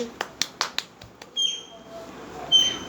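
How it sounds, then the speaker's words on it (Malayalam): A handful of sharp, separate claps ring out in quick succession in a classroom setting as a group applauds a student, followed by quieter background tones. "എല്ലാവരും ക്ലാപ്പ് കൊടുത്തേ."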